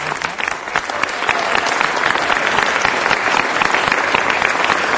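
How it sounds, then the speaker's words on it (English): A large audience at a city council meeting breaks into sustained, dense applause, loud and steady throughout with a faint murmur of voices underneath. "let's give her a round of applause"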